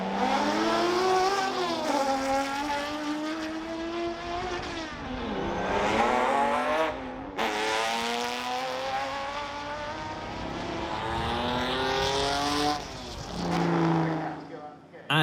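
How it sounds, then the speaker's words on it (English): A Jaguar E-Type race car pulls out of the pit lane at a historic racing event at Goodwood, its engine rising and falling in pitch through repeated revs and gear changes, loud and close throughout. "that's the Fiskin Jaguar E-Type that's leaving the pit lane"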